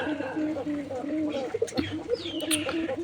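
Pigeons in a coop coo in soft, repeated low rolling calls under a person talking, with occasional wing flutters and a brief higher bird call.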